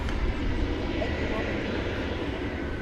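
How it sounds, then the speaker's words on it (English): An Airbus A321neo rolling down the runway on its takeoff run at night, a continuous broad engine roar holding steady throughout without break. "So flight 1430 to San Francisco is rolling now down the runway. It's an Airbus"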